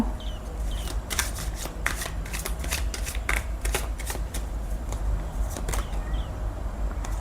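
Tarot cards are shuffled and drawn by hand, a steady run of crisp riffles, flicks and slaps repeating close to the mic for several seconds, with no talking.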